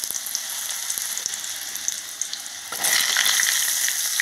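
Taro pieces hit hot oil already tempered with nigella seeds, the frying swelling into a loud, dense crackling sizzle after a quieter start, close by with no talking.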